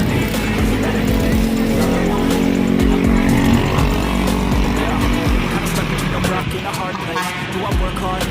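An intercity Simpatista bus from the Renosto line revs hard as it pulls away from a city terminal. The loud, rough engine roar rises and falls, traffic noise is mixed in, and someone talks over it.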